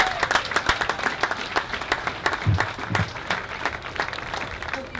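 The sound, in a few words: crowd applause at park opening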